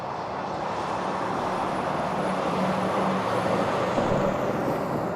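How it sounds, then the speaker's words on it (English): An Air Canada Airbus A220 arriving at Toronto Pearson airport from Montreal on a cold winter day, a steady distant jet roar holding level throughout with no voices. "Air Canada A220 coming in from Montreal."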